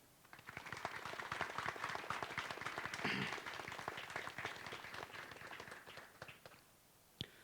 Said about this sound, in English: Please give a round of applause for all of our distinguished guests